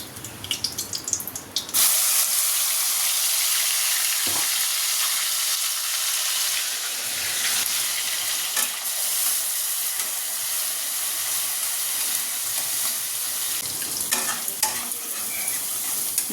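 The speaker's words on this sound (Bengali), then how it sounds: "এখানে বেটে রাখা পেঁয়াজ, আদা, রসুন, কাঁচা লঙ্কা এটাই প্রথমে দিয়ে দেবো কড়াই।" Ground onion, ginger, garlic and green chilli paste frying in a wok, a loud steady sizzle that bursts in and keeps hissing, with occasional stirring scrapes.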